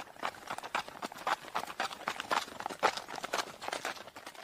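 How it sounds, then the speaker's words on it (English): Horse hooves clip-clop in a quick, even rhythm, close and moderately loud, with no talk over them. "Hazrat Abbas got on his horse and went to give the enemy Imam's message"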